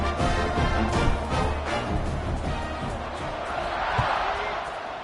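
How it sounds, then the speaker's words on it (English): Stadium crowd at a college football game between FCS Southeast and Vanderbilt, a steady loud buzz of many voices filling the space, with a commentator talking over it throughout. "this crowd is buzzing after that last score"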